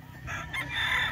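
Imported gamefowl roosters, Kelso and yellow-legged Hatch types, crow at a farm, with a couple of overlapping drawn-out calls at moderate distance and faint clucking beneath.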